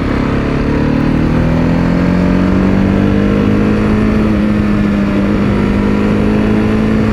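A KTM 690 Supermoto single-cylinder motorcycle engine drones loud and close throughout, pitch rising steadily as it revs, with no speech.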